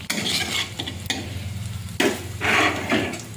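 Two bay leaves crackle and sizzle in hot mustard oil for a vegetarian cauliflower curry, with close, bursting spurts of frying and a utensil stirring and scraping the pan.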